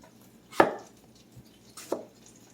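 An apple being cut up with a knife for a one-pan cabbage, apple and chicken sausage dinner: two distinct close, crisp chops on a board, about a second apart, with quiet between and no talking.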